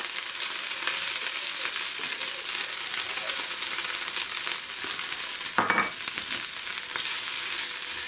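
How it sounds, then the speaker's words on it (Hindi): Onions tipped into a hot pan for an Indian dal tadka give off a steady close sizzle and hiss, with a brief louder crackling burst midway and no voices. "और अब इसके अंदर ये डाल देंगे प्याज।"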